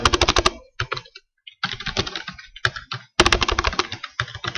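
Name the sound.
typing Visual Basic code on a computer keyboard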